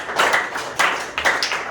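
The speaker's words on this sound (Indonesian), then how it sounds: "Tepuk tangan untuk Pak Eza." Classroom applause from an eighth-grade class in Indonesia, a short burst of hand claps in several uneven surges over about two seconds, fairly close and moderately loud.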